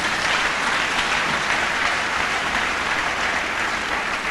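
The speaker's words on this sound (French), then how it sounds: "Acclamons le Seigneur Jésus" Church congregation applauding during a sermon, a dense, steady wash of clapping from many hands that holds evenly and loudly throughout.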